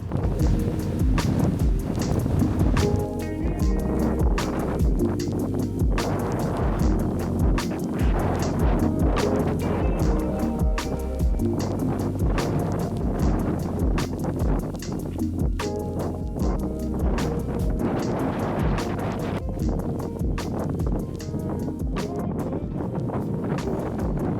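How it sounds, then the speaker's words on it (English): Strong wind whips across a desert mountain summit, a loud, steady buffeting rush that thumps and roars against the microphone the whole time, with no talking heard. "The wind is whipping, and look down there in the desert, it is just kicking up dust."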